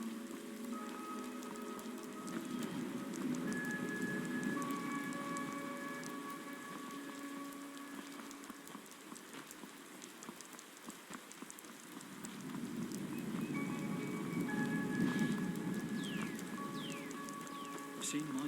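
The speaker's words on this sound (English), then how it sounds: "Wait out this rain." Steady rain patters across an outdoor landscape in the video game Skyrim, a continuous hiss with soft droplet detail and faint bird calls, swelling and easing over time while distant tonal music or ambience sits underneath.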